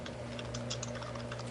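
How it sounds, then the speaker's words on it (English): Quick, light clicking of someone typing on a computer keyboard, a continuous run of soft key taps over a steady low electrical hum, close by with no voices. "Are you typing something"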